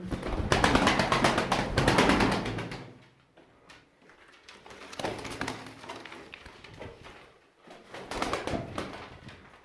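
Pigeons coo in low, throaty bursts amid a busy fluttering and rustling background, loud at first, then quieter before swelling again.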